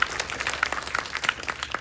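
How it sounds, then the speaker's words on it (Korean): An audience at a Korean film talk event applauds, producing a brief burst of dense, steady clapping heard close and fairly loud. "박수 부탁드립니다"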